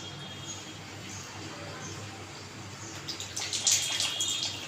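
Water runs from an LG water purifier as a steady, soft hiss, swelling into louder splashing near the end, with no talking.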